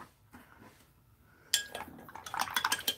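A paint container lid is pried open after a quiet pause, a sudden scrape and a few light metallic clinks at close range, with no voices.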